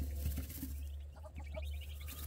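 Soft, high peeping chirps from ducklings with their mother duck, scattered and continuous at a moderate distance over low background hum.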